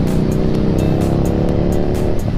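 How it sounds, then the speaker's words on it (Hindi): A superbike on a Varanasi group ride crackles with exhaust backfire pops, a quick run of sharp snaps over a loud, rumbling idling engine. "ये अर्चित भैया की गाड़ी पटाखे मार रही है।"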